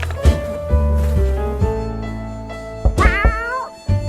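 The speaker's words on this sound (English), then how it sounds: "it's a kitty cat!" A cat meows several times at the shelter hatch in the survival game 60 Seconds, with a series of close, clear meows, the last a longer rising-falling cry, over a low game backdrop.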